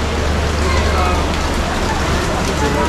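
Rain falling at a railway station platform beside a sleeper coach of the Kashi Vishwanath Express, a dense even hiss of drops with low rumble, loud and steady throughout, with no speech.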